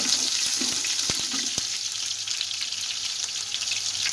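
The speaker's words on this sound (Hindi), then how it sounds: "प्याज़ों को करूंगी मैं अच्छी तरह फ्राई।" Onions frying in about one and a half cups of hot oil, a steady close hiss and crackle throughout with a few faint clicks early on, no voices.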